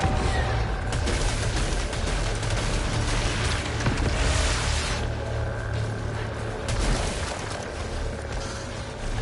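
Enemies in Returnal burst in a rapid fusillade of explosions and gunfire, loud booms and crackling blasts layered over a busy, continuous combat din.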